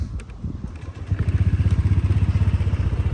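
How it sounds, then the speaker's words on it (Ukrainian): A 2024 Honda Stylo 160 fuel-injected scooter cranks and catches, settling into a rapid, even idle putter close by after about a second of starter clatter. "Так, заводиться вона тільки з лівого витиску."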